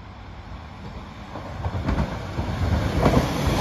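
A West Midlands Railway Class 196 passenger train rumbles past nearby, growing louder with rhythmic clickety-clack of wheels over rail joints.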